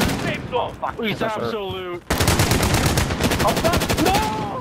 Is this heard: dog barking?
no